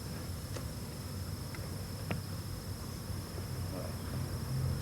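Honeybees buzzing around beehive frames during honey harvesting, producing a constant faint insect hum under a broad noisy background with a few scattered clicks, with no speech.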